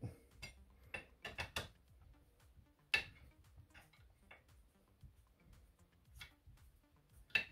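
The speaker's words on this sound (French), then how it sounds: "On va dévisser." A threaded bolt being unscrewed from a die in a VEVOR 86-piece tap and die set, with a series of close, sharp metallic clicks and ratcheting ticks at an irregular pace, no voices.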